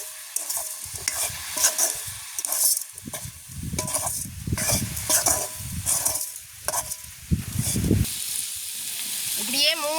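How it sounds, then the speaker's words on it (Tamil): A spiced curry with salt and chilli powder gets stirred and tossed in a pot, with loud, uneven scraping and clattering strokes over a hissing sizzle and faint chirps near the end. "இப்படியே நல்லா பிரட்டுவோம்"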